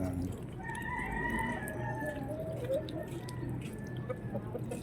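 Chickens cluck and warble nearby, with a drawn-out crowing call rising over faint background noise and some low voices.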